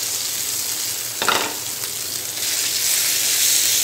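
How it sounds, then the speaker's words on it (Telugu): Cabbage and carrot chutney sizzles loudly as it is added to hot oil tempering in a pan, a steady crackling fry with a brief burst of stirring midway and the sizzle growing fuller toward the end. "తాలింపు ఫ్రై అయిన తర్వాత మనం ముందుగా నూరుకున్న పచ్చడి వేసుకోవాలి"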